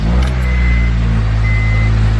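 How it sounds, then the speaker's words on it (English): Acura RSX base model with intake manifold runner control faults idling just after starting, a loud steady low engine drone with a faint high tone, close by and with no talk. "and that's to start the car up right now"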